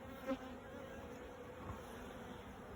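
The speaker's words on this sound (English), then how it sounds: "settle the bees down a little bit, drive them down a little bit" Honey bees hum in a low, steady drone inside a newly started hive, faint and close, with a brief louder buzz near the start.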